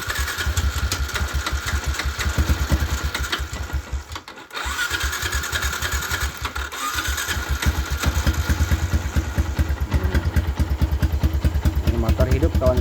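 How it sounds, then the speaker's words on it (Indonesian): A Yamaha Jupiter MX motorcycle that had sat unused for about five months is cranked on the starter, its engine chugging in rapid loud pulses with a brief drop midway before running on, with a voice talking over it. "kita coba sekali lagi untuk di starter"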